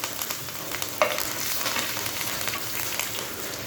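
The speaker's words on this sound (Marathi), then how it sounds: "थोडे तीळ टाकते आहे हिंग कढीपत्त्याची पानं टाकायची आहे" Sesame seeds, asafoetida and curry leaves frying in hot oil for a bitter gourd dish, giving a steady crackling sizzle with one sharp pop and faint stirring throughout.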